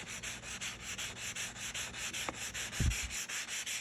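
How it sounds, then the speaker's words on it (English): Steady back-and-forth hand sanding of the anodized finish on a Vespa GTS 300 part, loud and close, a regular rasping rhythm of strokes with a brief knock near the end. "you just basically sand like you think you'd sand"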